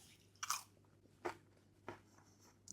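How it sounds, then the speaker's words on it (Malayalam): Someone bites into and chews lightly seasoned, mildly crunchy fried chicken and fries, with three or four distinct close crunchy bites spaced apart over a quiet background and no talking. "ആവശ്യത്തിനൊരു ചെറിയ ക്രഞ്ചുണ്ട്, പക്ഷേ പെർഫെക്റ്റ് സീസൺഡാണ്."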